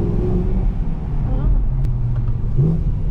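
A car's engine accelerates and downshifts through paddle shifters in a built-up area, a steady loud drone heard through an open window with people talking over it.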